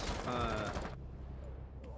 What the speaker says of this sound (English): More gunfire is being exchanged.